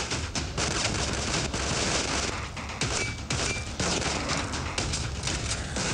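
Rapid bursts of gunfire from the zombie video game Left to Survive, dense and continuous with sharp repeated cracks over a steady loud wash for the whole stretch.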